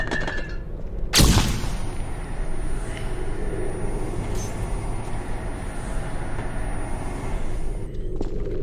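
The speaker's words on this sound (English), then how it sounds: "Throwing flashbang" A flashbang grenade explodes in a video game with a single loud, sharp bang, then a steady high-pitched ringing tone hangs over a dull rumbling background for several seconds.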